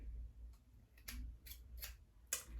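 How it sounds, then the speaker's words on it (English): Scissors trim the ends of medium two-strand natural hair twists with four or five crisp, separate snips spaced about half a second apart, close up and fairly quiet, with no talking. "I'm gonna just go ahead and trim it."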